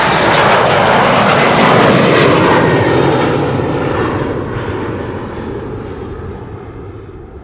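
German Airways jet airliner in new livery departing Amsterdam Schiphol, its loud broadband engine roar strong at first and then gradually receding into the distance. No voices.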